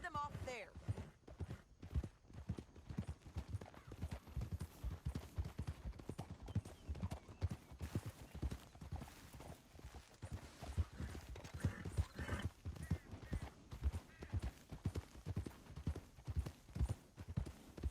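Steady clip-clop of horse hooves with an occasional whinny in the video game Red Dead Redemption 2, mixed with other game sounds and voices talking throughout.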